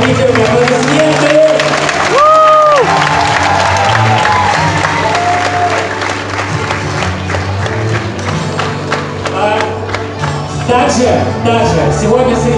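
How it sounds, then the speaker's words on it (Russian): Theatre audience at a dance competition final claps and cheers loudly, dense applause mixed with whoops, under a backdrop of playing music throughout. "поднимите руки, аплодисменты."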